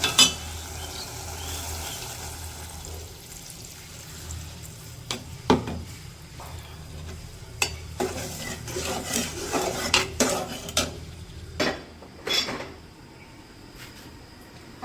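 A spoon stirs a vegetable curry with dried shrimp in a pot after broth is poured in, giving scattered metallic scrapes and clinks over a low steady kitchen hiss with no one talking.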